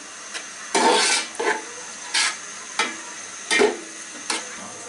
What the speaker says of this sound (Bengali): দিয়ে এটাকে একটু মিশায় ভুনে নিতে হবে অল্প একটু